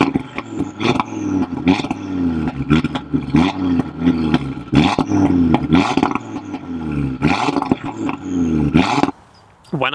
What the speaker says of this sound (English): the pops and the bangs. I'll include a little clip of those